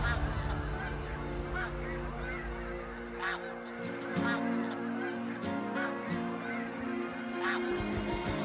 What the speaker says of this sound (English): The snow geese flew in